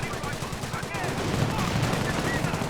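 Rapid gunfire crackles through a Company of Heroes battle as a squad engages Panzer Grenadiers, bursts of shots and machine-gun rattle layered densely under talk.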